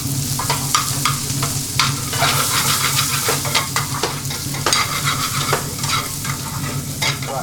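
Onions with red and green peppers stir-fried in a busy vegan Indian kitchen for jalfrezi curry, a constant loud sizzle broken by repeated scraping and clanking of a utensil in the pan.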